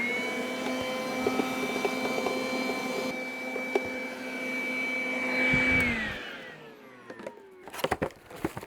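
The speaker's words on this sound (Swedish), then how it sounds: "Och gör om en liten dammsugare. Dammsuger upp det som är löst här inne då" Small vacuum cleaner running inside the air filter housing of a Volvo, a steady whine that shifts pitch as the nozzle moves, then cuts off near six seconds, followed by scattered clicks and rustling handling noises.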